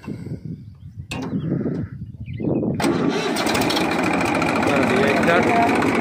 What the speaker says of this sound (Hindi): ठीक है भाई अभी स्टार्ट करिए ट्रैक्टर को